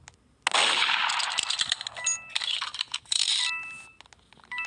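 Gunfire in the video game Katil Kim 2 crackles in a rapid, dense burst, followed by further clipped shots and metallic pings, loud and close, with no talking.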